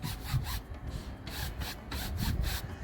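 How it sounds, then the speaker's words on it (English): Banister brush with detergent scrubbing a pleated blind screen lightly, close rhythmic bristle strokes repeating in quick back-and-forth bursts with no talking. "Now we'll just give it a really light scrub with some detergent and the banister brush"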